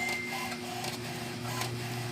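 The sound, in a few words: HP Ink Tank 315 printer running calibration print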